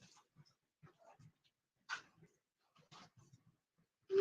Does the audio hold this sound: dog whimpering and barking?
yes